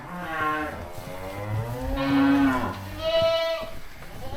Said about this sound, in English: so we got all the fat cattle on one side now